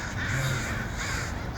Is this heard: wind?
no